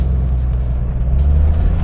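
A 1985 Toyota HJ60 Land Cruiser under way, its engine producing a steady, loud low rumble that holds constant and close throughout with no voices.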